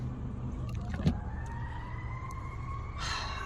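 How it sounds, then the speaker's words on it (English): A faint siren wails in the distance, rising slowly over a low rumble of traffic, with a brief thump partway through. "Hear the sirens."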